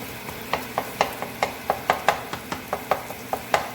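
A spatula scrapes and taps rhythmically against a pan while SPAM ham and egg fried rice is stirred and mixed, a steady series of sharp clacks and scrapes over a faint sizzle.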